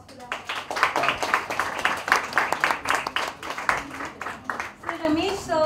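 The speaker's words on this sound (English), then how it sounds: "Can we have a huge round of applause for them?" An audience at the launch of Society Magazine's May issue claps for Ramesh Sippy and his wife, a burst of close, uneven hand clapping that fades as a voice begins speaking at the end.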